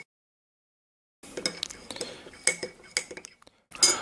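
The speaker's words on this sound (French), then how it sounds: "Maintenant, on touille." A spoon stirs honey, lemon and hot water in a cup, beginning after about a second of silence with quick, close clinks and taps against the sides, a brief pause, then a final clinking burst.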